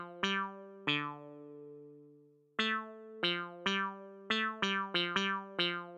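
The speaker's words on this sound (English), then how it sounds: "I'm going to be using this trois clav" A trois clav synth preset from Xenology plays a short melodic phrase of bright, plucky, bell-like clavinet notes, a few held longer with gaps between, then a quicker run of staccato hits, clean and alone.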